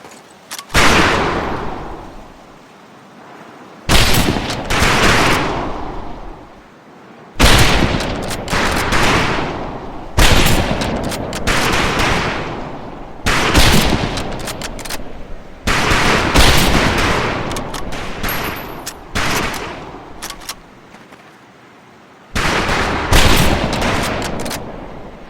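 Rifle fire on a shooting range in the Medal of Honor: Pacific Assault video game, loud sharp shots in repeated bursts spaced a few seconds apart, each ringing off into a decaying echo.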